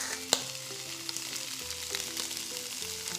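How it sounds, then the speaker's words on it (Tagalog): Pork belly frying in a skillet gives a steady, close sizzle with small crackles and one sharp clink near the start, and no voices. "Ilagay na natin tong pork belly."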